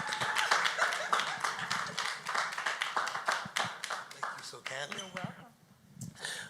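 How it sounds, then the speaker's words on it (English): An audience at a college keynote event claps for an introduced speaker, giving a crisp burst of many hands that fades out after about five seconds, with voices audible under and after it. "Let's give him a round of applause."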